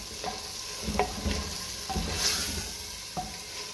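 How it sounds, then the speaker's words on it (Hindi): Boneless chicken fries in a pan for a restaurant-style handi, giving a steady sizzle with occasional soft stirring knocks and scrapes, close and alone. "चिकन डाल के इसको 10 से 15 मिनट तक आपने भूनना है चिकन को"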